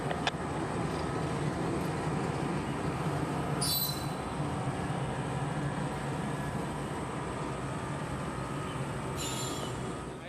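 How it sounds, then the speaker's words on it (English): Conrail light engine locomotive trundling along track toward a tied-down train, a steady rumbling roll with a couple of brief metallic squeals, heard from a moderate distance without voices. "U-762's light engine was trundling up to 773's tied-down train on track 2"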